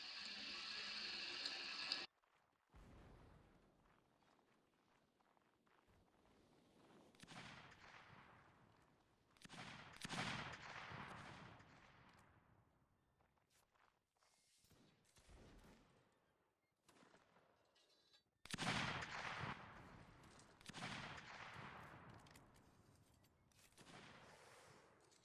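Bursts of cannon booms and crackling musket volleys from a Napoleonic Wars battle game, several heavy blasts spaced out over the stretch, loud and rolling.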